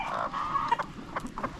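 Chickens clucking close by in a farm coop, a steady run of short overlapping clucks and chatter with no talking.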